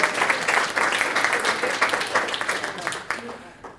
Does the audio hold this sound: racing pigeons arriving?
no